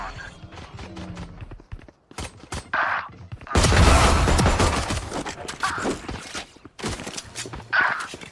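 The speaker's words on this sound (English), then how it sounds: "I'll use a classic. Let the bullets fly." Classic pistol fire in the game Valorant crackles in rapid bursts of sharp shots, loud and close, with a dense stretch of gunfire in the middle and a few quieter gaps between volleys.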